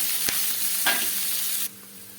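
Chopped onion tipped into hot oil with mustard and fennel seeds while cooking a mutton kola urundai masala, giving a steady close sizzle with brief stirring clatters and a sharp drop in intensity near the end.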